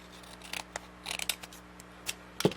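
Scissors snip through a paper gift bag in a few short, crisp cuts with small pauses between them, close and quiet, with no talking.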